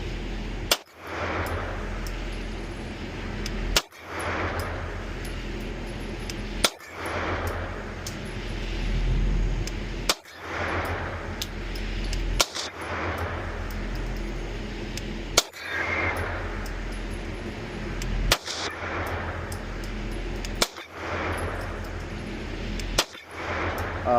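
A Sig Sauer P320 Legion X-Five pistol fires at a shooting range from seven yards, sharp loud single shots spaced every few seconds, about eight in all, with quiet room tone between.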